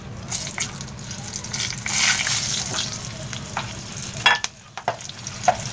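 Red and green chilies sizzle and crackle steadily in hot oil over fried whole spices for chana dal tadka, with occasional louder pops and spits partway through.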